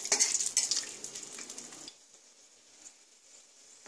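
Bay leaf and garam masala sizzling and frying in a mix of ghee and oil, with a bright crackle and light stirring at first that fades to a quiet, low sizzle.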